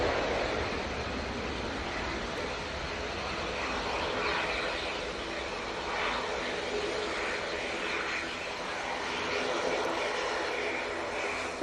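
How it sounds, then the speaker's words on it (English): An ATR 42 turboprop at Manchester Airport produces a steady, broad engine roar that holds at an even level throughout, heard from a moderate distance with no pauses. "Next on is the ATR 42."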